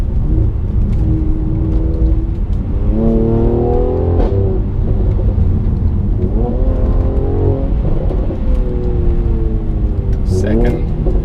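Inside a 2018 Mercedes-AMG C43 Coupe 4Matic in Sport Plus manual mode, the engine revs climb repeatedly through gears with rising pitch sweeps and shift breaks, under steady road rumble and someone talking.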